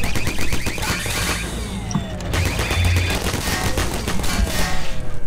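Rapid turret fire in Portal: The Flash Version, loud, fast metallic bursts of automatic shots in quick rattling strings, briefly broken by a pause, then resuming with sharp impacts.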